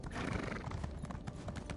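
Horse hooves clip-clop in a video game, a quick, dense patter of steps close by, steady and unbroken over a short stretch with no talking.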